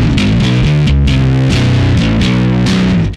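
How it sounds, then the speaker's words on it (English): Distorted bass guitar plays gritty power chords with percussive attack, a loud, steady run of sustained chords that changes chord about every half second, played alone. "mainly power chords along with some gritty distortion"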